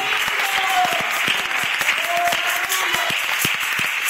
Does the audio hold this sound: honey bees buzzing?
no